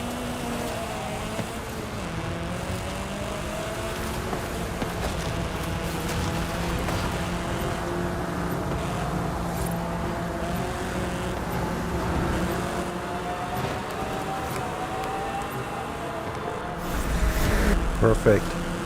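Lamborghini Centenario in Forza Horizon 5, its engine droning steadily with sweeping pitch changes as it revs and shifts, a loud sustained roar that swells near the end, with a voice talking over it.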